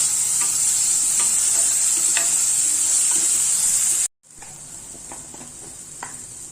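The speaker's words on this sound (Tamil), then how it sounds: "நம்ம இந்த ஸ்டேஜில் வேக வச்சு வச்ச கொண்டக்கடலையை சேர்க்கணும்" Boiled chickpeas go into a sizzling masala for sundal, under a loud, constant frying hiss with spatula scrapes and taps; the sound cuts out briefly, then the quieter sizzle and stirring resume.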